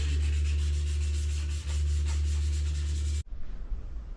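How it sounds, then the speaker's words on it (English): A 1998 Cobra's car body panel is sanded by hand before painting, a steady, close rasping rub lasting about three seconds that stops abruptly, leaving quiet room noise. "got the whole thing sanded up"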